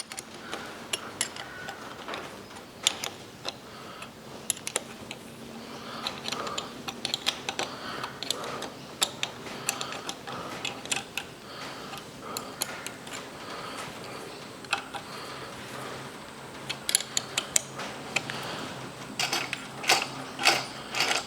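Gears of a John Deere injection pump being turned on the bench, producing a steady run of small mechanical clicks and ticks, close and fairly quiet, with no talking.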